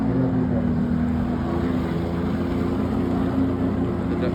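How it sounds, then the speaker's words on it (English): A jet ski engine revs up steadily on the water, a continuous loud motor drone with a rising hum and no talk over it. "The jet ski picking up speed."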